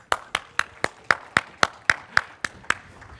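A lone person claps for a speaker at a tech conference, about a dozen evenly spaced sharp claps, close and clear, with no crowd joining in.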